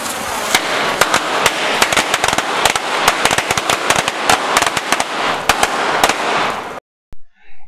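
Firecrackers set off in a crude demolition experiment to blow out the walls of a small model structure: a rapid, loud string of sharp cracking pops over a hissing, crackling roar for nearly seven seconds, then abruptly silence.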